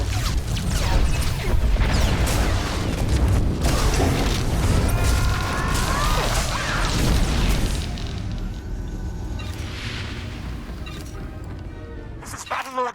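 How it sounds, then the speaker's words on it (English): A massive cannon fires asteroids in the main cannon room of Hammer Station in the SWTOR video game, a dense, continuous mechanical rumble of grinding, creaking machinery broken by heavy booms and crashes that eases toward the end. "Now this is the main cannon room, which is firing the asteroids."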